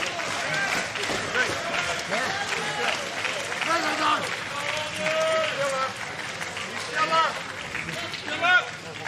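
A wrestling crowd at the Crockett Cup 2022 event rallies behind Nick Aldis during a deep submission hold, with dense, steady arena noise of cheering, chanting and scattered claps. Swells rise and fall throughout and peak near the end.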